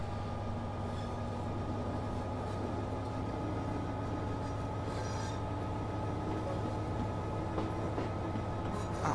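A BR Class 66 diesel locomotive accelerates gradually on the North London Line in a train simulator game, giving a steady droning engine rumble with rail noise and faint wheel squeal, continuous and fairly loud, with no talking.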